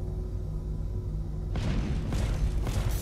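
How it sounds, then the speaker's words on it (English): Crusader Ares star fighter ion cannon in the Star Citizen game, deep booming shots kicking in after a low hum, with a heavy rumbling burst followed by a couple more thuds, loud and close. "The range on this cannon used to be a lot better."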